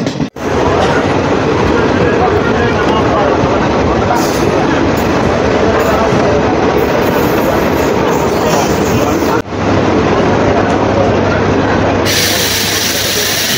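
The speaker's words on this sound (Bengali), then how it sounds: "ট্রেন কিন্তু তার ট্র্যাক চেঞ্জ করে ঢুকে যাচ্ছে কুমারঘাটের প্ল্যাটফর্মে।" A DEMU train on the Agartala–Karimganj run rolls through a track change into Kumarghat station's platform, its loud, steady rumble and wheel clatter filling the whole stretch.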